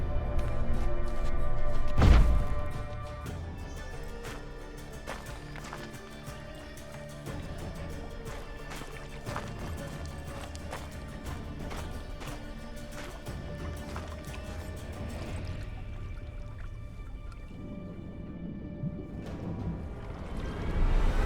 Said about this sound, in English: Break down the wall and the water will rush through here.